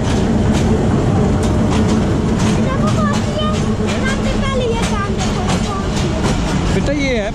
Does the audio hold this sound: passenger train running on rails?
yes